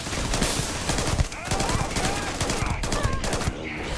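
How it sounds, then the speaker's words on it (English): Gunfire in the Starfield video game, with dense overlapping bursts of shots crowding the mix alongside game sounds and brief voice, loud and continuous throughout. "I am opening fire."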